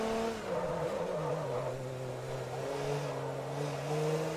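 A Porsche race car engine roars in Forza Motorsport 3, a loud steady drone whose pitch dips and then climbs again as it revs, with faint tyre noise beneath and no voices.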